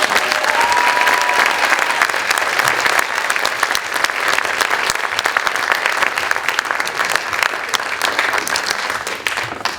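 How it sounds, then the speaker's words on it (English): A large audience at the close of the Ánimo Voices Celebration gives a sustained round of applause, a thick, even roar of clapping with some cheering that stays loud for the full stretch. "Let's give everybody one last round of applause"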